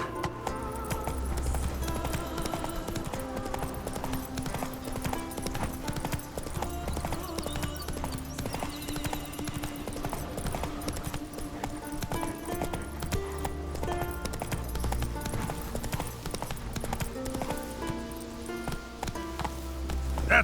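Geralt's horse Roach gallops in The Witcher 3: Wild Hunt, a steady rhythmic clip-clop of hooves running on and on under a continuous orchestral music bed, fairly close and clear throughout.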